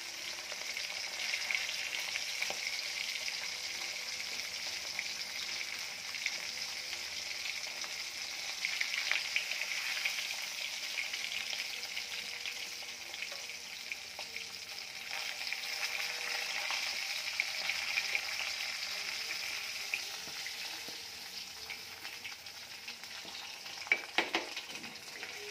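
Fish fries in a pan with a steady, moderately quiet sizzle and occasional pops and stirring clicks, no one speaking.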